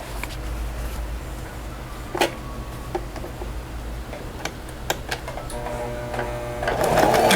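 A sewing machine stitches fabric for a pocket organizer, running in a steady mechanical rattle close by, with a few sharp clicks and a brief faster burst near the end.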